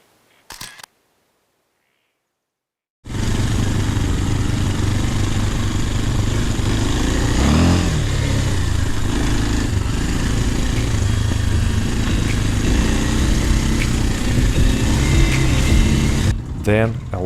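Enduro sport motorcycles ride through the crater of Batur volcano in Bali, Indonesia: a loud, continuous engine roar mixed with wind buffeting. It starts abruptly after a brief silence.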